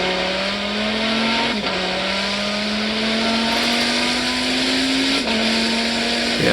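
A high-revving race car engine screams loudly and continuously at around 190 mph, its pitch climbing steadily through gears with brief dips at each shift.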